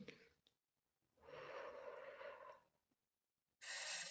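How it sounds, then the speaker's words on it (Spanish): A slow, soft exhalation during a guided breathing exercise, a steady breathy rush of air lasting over a second, quiet and close, followed by another breath sound after a short silence. "Y exhalamos suave y lentamente."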